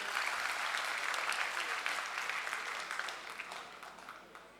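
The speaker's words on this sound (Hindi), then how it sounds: "इनके लिए जोरदार तालियां बजा दीजिए।" A crowd of Aam Aadmi Party workers at a Mumbai gathering gives sustained, thick applause, a continuous rattle of many hands that holds steady, then slowly tapers off.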